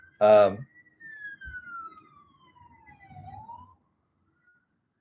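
A faint, distant siren wails in one long falling tone that turns upward, after a brief vocal sound at the start.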